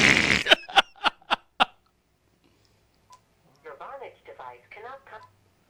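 Five sharp cell phone dialing tones beep in quick succession at the start, loud and close, followed after a pause by a short burst of talk.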